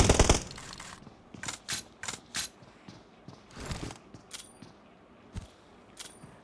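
Gunfire from a fight at the edge of the zone in a Battlegrounds Mobile India custom match: a loud opening burst, then scattered short volleys and single shots with brief pauses between.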